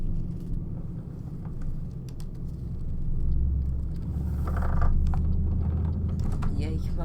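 Low mechanical rumble and faint clicking from a steering wheel's force feedback motor while driving a Scania truck in Euro Truck Simulator 2, a steady droning hum that swells midway, picked up by a nearby microphone.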